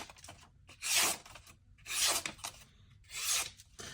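A CJRB Hectare knife slicing through paper in three separate strokes, each a close, crisp rasping swish lasting about half a second, with short quiet gaps between them.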